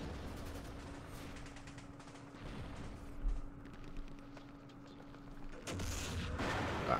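Mortar fire in the Vietnam war game Campaign Series Vietnam, Lam Son 719: a muffled boom lands mid-clip and a louder burst follows near the end, over a steady rumble of battle ambience with no talk.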